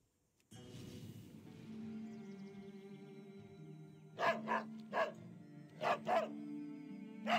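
Dog in World of Warcraft: The War Within, an ambient game drone with music running under a series of short, close barks, two pairs, then a single bark, then a final bark.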